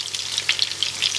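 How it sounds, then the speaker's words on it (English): Chicken and pork fry in a pan, giving a brief close-up crackling sizzle with small spitting pops. "there's the meat, all done and fried"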